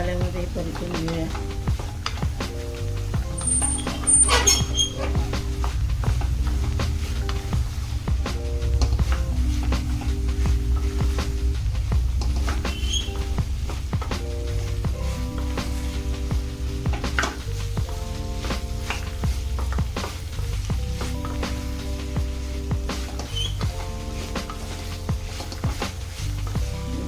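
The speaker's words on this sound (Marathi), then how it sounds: "आपण हे चणे आहेत ते त्याच्यात घालूया आणि गॅस फास्ट करून चांगलं मसाल्यामध्ये परतून घेऊया" Chickpeas stir-fried over high flame in oil with roasted masala give a steady close sizzle, with a few utensil clinks and scrapes of stirring throughout.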